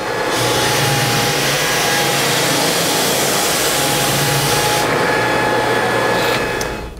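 A floor sander running a Norton Red Heat 50 grit abrasive drones loudly and steadily up close, a constant broad grinding roar that eases slightly near the end.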